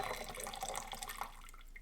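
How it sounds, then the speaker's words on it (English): Water flushes through a countertop reverse osmosis filter system, a steady close gurgling and trickling splash with small drips, moderately quiet and unbroken. "you can push the flushing and that will flush your whole internal purified water"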